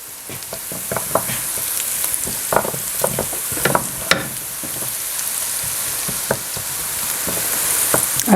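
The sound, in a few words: ginger and garlic sautéing in a pan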